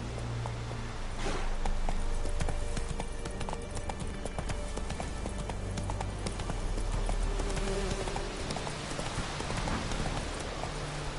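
Roach, the horse in The Witcher 3, trots along with steady rhythmic hoof clops under a buzzing, insect-like ambient bed, moderately close and continuous throughout.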